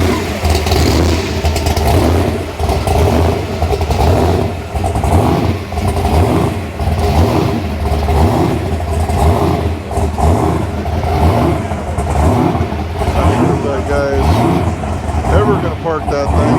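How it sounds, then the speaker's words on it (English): Classic cars rolling into a cruise-in in Pasadena ahead of the Rose Parade, steady engine rumble and idling from several vehicles nearby under continuous talking. "A lot more cars rolling in."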